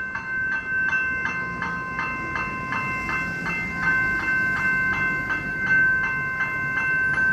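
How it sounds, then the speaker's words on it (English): A Doodlebug railmotor train in Australia hums steadily with a rhythmic clicking beat and a sustained tonal whine, fairly close and continuous, as it pulls into Tyabb Station. "we've got a Doodlebug ahoy. First train of the day."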